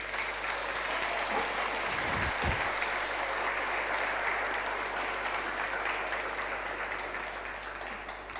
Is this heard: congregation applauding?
yes